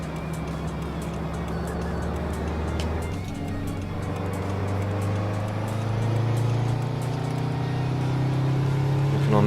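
Kenworth W900 truck in American Truck Simulator, its simulated diesel engine held high in gear, a loud sustained drone whose pitch climbs slowly as it spools up.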